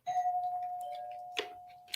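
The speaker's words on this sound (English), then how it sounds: "that's the doorbell" A household doorbell rings once with a clear sustained chime tone that slowly fades, followed by a faint knock or clunk; no talking over it.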